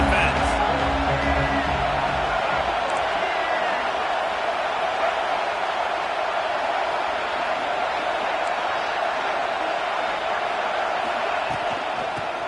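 Steady, loud stadium crowd roar at an American football game, a continuous wash of voices with occasional whoops, filling the whole stretch with a commentator's voice faintly underneath.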